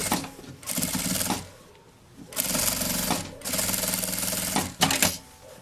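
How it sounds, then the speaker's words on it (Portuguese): A sewing machine runs in several quick bursts, stitching fabric pieces face to face for a travel cosmetic case, with short pauses between runs; nobody talks. "Frente com frente, passa uma costura."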